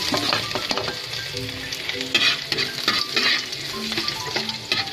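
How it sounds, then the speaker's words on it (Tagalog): Garlic sautéing in a pan for sweet and sour tilapia, with a steady sizzle and frying crackle under repeated stirring scrapes and light clinks of utensil against pan, close and continuous without talk. "At po ay igisa natin ang bawang,"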